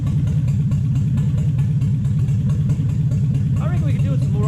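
A car engine idles while misfiring on one dead cylinder. It makes a loud, continuous low rumble with an uneven pulse that runs the whole way through.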